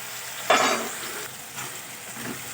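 Chopped onion and tomato crackle in hot oil as a spatula stirs them, with one sharp sizzle burst at first that settles into steady frying, close and clear.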